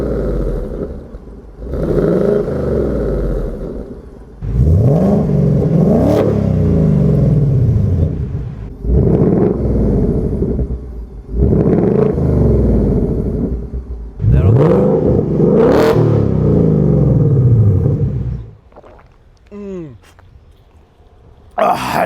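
A Chevrolet Camaro with an aftermarket exhaust revs up close and loud in about four long bursts, each swelling to a roar and dropping back, with a short pause between them and a quieter spell at the end.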